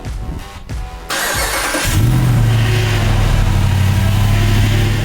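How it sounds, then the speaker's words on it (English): A Jeep Gladiator's HEMI 392 V8 engine cranks briefly, fires up with a burst, then settles into a loud, deep, rumbling idle close by. "It was an amazing feeling to hear that V8 come to life in the Jeep Gladiator"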